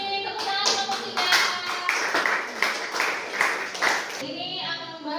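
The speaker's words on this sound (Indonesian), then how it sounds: "Tepuk tangan kelompok 3." Group 3 receives clapping in a classroom setting during a teaching demonstration: several people clap in an uneven, tapping rhythm for about four seconds, then the clapping stops and a voice starts speaking.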